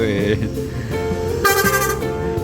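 Loud blaring bus horn blasts in short bursts at a bus terminal in Tegal at night, a strong tonal honk rising midway, over engine noise and some voices nearby.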